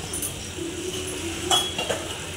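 A spoon scrapes and clinks against a pot while spices are stirred into white pea usal, light metallic taps faint and close amid quiet kitchen background.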